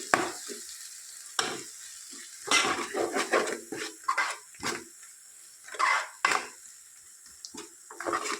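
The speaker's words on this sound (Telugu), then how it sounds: "అన్నీ వేసుకొని ఒకసారి మిక్స్ చేసుకోవాలి" Ground spices, including coriander powder, are stirred in a cooking pan with a spoon, giving close, repeated scraping and clattering strokes in short bursts with pauses between them.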